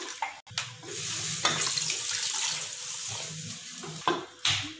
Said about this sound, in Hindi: अब इसमें ऐड करेंगे 2 कप पानी